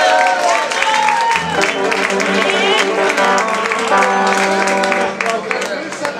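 Bar audience at a guitar solo contest in Cien Fuegos Bar applauding a participant, steady clapping blended with loud music and a talking host throughout.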